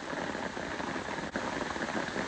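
Heavy rain beats steadily on a leaking tent during a thunderstorm while camping, a dense close hiss of drops on the fabric that carries on without a break, with no voices.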